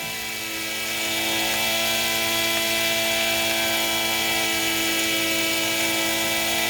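Electric kayak motor running steadily at quarter throttle, a loud continuous high-pitched whine with layered tones that holds constant after a slight rise at the start.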